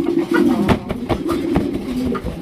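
Yellow Sirazi pigeons coo close by in low, rolling, rhythmic bursts, several calls in quick succession with no talk over them.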